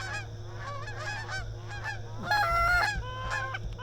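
Wild geese honk in a field during a goose hunt in Sunflower County, Mississippi, with many overlapping calls from a flock, growing louder and denser midway, over a steady low hum.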